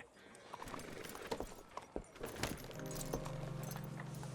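Horse hooves clip-clop irregularly on the ground in Red Dead Redemption 2, with jangling tack and a low engine-like hum rising toward the end, moderately close.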